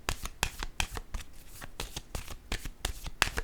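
A deck of cards being shuffled for a card reading, close up, with quick riffles and soft snapping flicks in an irregular rhythm and no voice over them.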